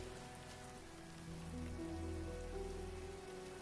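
Steady rain falling in a video game, a soft even patter at low volume with faint tonal background music beneath, no voices.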